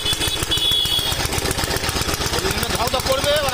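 A small engine being started and left idling with a steady, loud rhythmic chugging throughout, its throttle running high, while a person talks over it.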